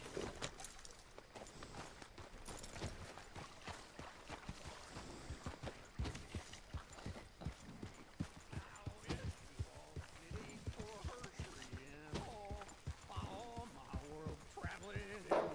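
Horse hooves clip-clopping steadily while riding in the Western video game Red Dead Redemption, a busy rhythmic trot under continuous talking and game ambience.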